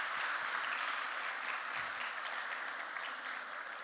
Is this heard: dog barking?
no